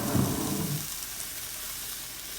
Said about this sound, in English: I'm going to add in the middle a couple of tablespoons of peanut oil.